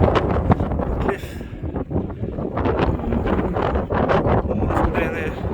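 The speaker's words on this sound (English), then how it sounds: "Bit blowy out here." Strong wind buffets the microphone on a clifftop at Ravenscar on the coast-to-coast walk, a loud continuous rumbling roar with gusting surges and no clear voice.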